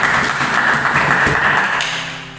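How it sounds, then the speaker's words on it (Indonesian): Congregation at an online church service claps, a brief burst of dense applause that fades toward the end. "Beri tepuk tangan yang meriah buat Tuhan kita"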